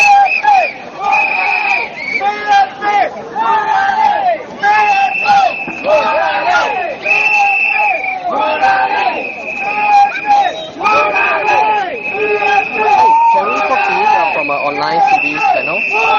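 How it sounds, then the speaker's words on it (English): A large political rally crowd at Bukit Gombak Stadium keeps up a rhythmic, repeated chant of a name, loud and continuous with pulsing phrases and crowd noise throughout. "the whole crowd is still chanting Murali"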